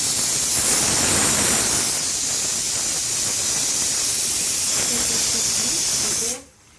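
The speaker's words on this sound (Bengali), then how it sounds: "আর দেখেন এখন পেঁয়াজটা ভাজা ভাজা হয়ে গেছে, মশলাটা দিয়ে দিই।" Onions fry in a hot pan in a home kitchen, giving a loud, steady sizzle and hiss close to the microphone. It runs for several seconds and then cuts off abruptly.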